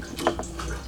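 Liquid dripping and trickling as fuel drains from an FD RX-7 gas tank, a brief splashy patter of a few close drops under light background noise.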